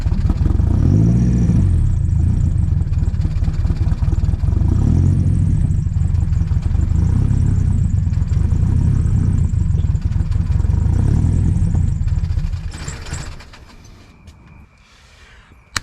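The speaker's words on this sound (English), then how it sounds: "Mid exhaust system for the H2B CRX is nice and deep" A turbocharged Honda CRX with a mid exhaust drones with a deep, steady rumble as the engine revs, then the noise drops away sharply near the end.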